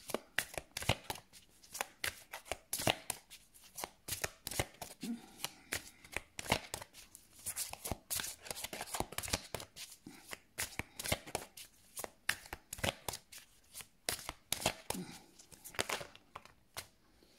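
Tarot cards shuffled by hand in repeated riffling and sliding bursts, close and crisp, running continuously with brief pauses and faint speech in places.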